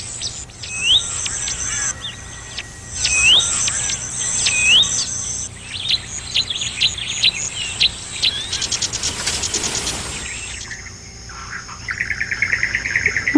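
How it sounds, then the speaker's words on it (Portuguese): Black-backed cisticola calling in the Okavango, a run of clear, repeated rising whistled notes over a steady background of chirping insects, with a denser burst of bird calls partway through and buzzy trills near the end. "seu dorso preto e seu pio são características bem distintas"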